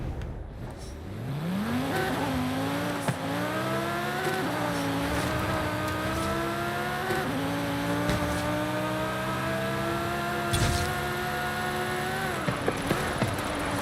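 A Porsche engine in a driving video game revs hard and climbs through several gears, each rise ending in a sharp shift, loud and close over about fourteen seconds with a few faint clicks near the end.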